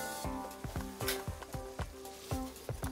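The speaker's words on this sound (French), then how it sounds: "on met la farine" Flour hitting melted butter in a pan for a béchamel, with a soft steady sizzle and faint frying crackle and light stirring taps repeating at a quick rhythm, close by and alone.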